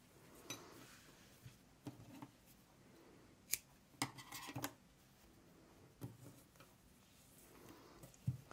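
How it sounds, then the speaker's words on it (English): Scissors snip yarn during crochet work on a Christmas sweater, a handful of faint, sharp clicks and snips spaced out against a quiet room background, with no speech. "Snip that yarn, don't need it anymore."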